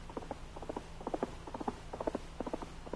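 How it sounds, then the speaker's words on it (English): Horse hooves galloping along a trail, done as a sound effect for an old-time Lone Ranger radio drama about Pony Express riders: quick rhythmic clusters of clip-clop beats repeating steadily at a moderate level, with no voices. "the Pony Riders urged their fleet little horses along the trail at top speed"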